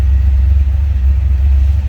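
A 1979 Pontiac Firebird Trans Am T-Top Coupe engine running in a steady, loud, low rumble close by, with no voices.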